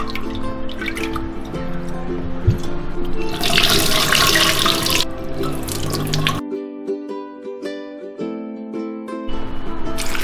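Black rice, lotus seeds and red-skinned peanuts are rinsed under a running tap, with water gushing and splashing loudly in a basin and then giving way to quieter dripping and swirling, close by, with no talk.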